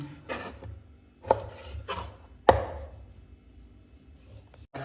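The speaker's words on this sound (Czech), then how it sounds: "takže takhle si nakrájím bůček na kosky, jistou kůží." A kitchen knife cuts pork belly with the skin on into cubes on a board, giving about four distinct, close chopping thuds spread unevenly over a few seconds with quiet between.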